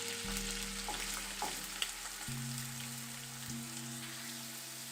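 Chopped onion tipped into a hot pan for orange chicken sets off a steady, close frying hiss that carries throughout, with low music running underneath and no talking.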